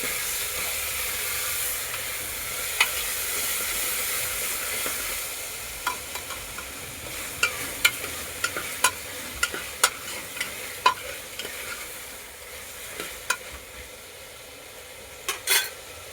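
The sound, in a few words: tomatoes and chilies frying and stirred in a pan for khichdi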